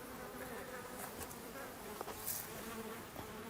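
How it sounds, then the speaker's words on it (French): A dense swarm of flies hovers over an animal carcass writhing with larvae, a continuous close buzzing drone with occasional louder passes near the ear, no voices. "Mais il y a vraiment beaucoup de mouches."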